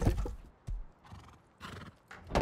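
A horse in the survival game Rust whinnies loudly at the start and end, with clip-clopping hoofbeats and snorting in between. All of it is close and clear, and no one speaks.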